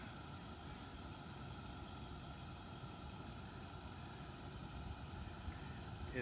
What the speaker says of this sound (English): Okay, the bus is about to leave.